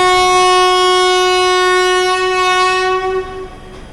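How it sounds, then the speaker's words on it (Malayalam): The West Coast Express arriving on the opposite line at a station sounds one loud, sustained horn blast lasting over three seconds, fading at the end as the train rumbles in. "വെസ്റ്റ് കോസ്റ്റ് എക്സ്പ്രസ് കയറി വരുന്നുണ്ട് B ലൈനിൽ കൂടെ."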